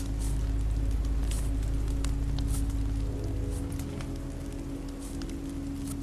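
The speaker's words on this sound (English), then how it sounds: "This rain will turn to sleet." Steady rain falls throughout a scene in the video game The Walking Dead Season 2, a dense, even hiss of patter with scattered drop ticks, softening slightly partway through, with no talk.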